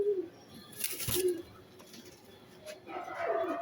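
Low pigeon coos murmur through a noisy room at a pigeon farm, with a few brighter bird calls and scattered background voices.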